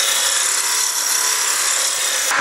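A woodturning spindle gouge peels and slices wood from a spindle spinning on the lathe, giving a loud, continuous hissing rush of cutting that holds steady close by for the whole stretch.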